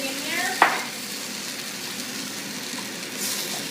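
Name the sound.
beef and marinade sizzling, spoon scraping pan bottom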